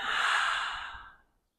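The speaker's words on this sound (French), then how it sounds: "prenez 3 respirations profondes en inspirant par le nez, en expirant tout par la bouche." One long, deep breath is let out through the mouth during an evening yoga relaxation routine. The exhale is close and breathy, fading over about a second into silence, with no talking.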